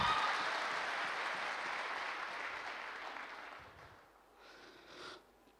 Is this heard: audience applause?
yes